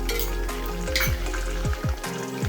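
Hot oil sizzling and spitting loudly as spoonfuls of salted water hit homemade potato chips frying in a pan, with repeated bursts of crackle over a steady fry.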